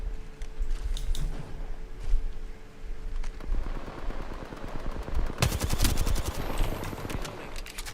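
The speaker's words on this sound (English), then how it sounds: "Opening fire." Gunfire rings out in the video game Apex Legends: sharp rapid bursts of automatic fire, sparse shots early, then a dense loud fusillade in the second half, with no talk.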